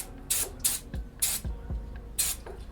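Brake cleaner hisses from a can in short sprays onto the rear brake discs of an Audi A6 C5. Four or five quick bursts come at uneven intervals, fairly quiet, mixed with faint knocks.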